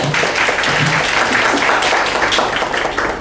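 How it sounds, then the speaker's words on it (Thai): Audience applause welcoming a guest professor at a lecture event, a full steady round of clapping from many people throughout, close and loud with no talk over it. "ขอพวกเราปรบมือต้อนรับท่านด้วยครับ"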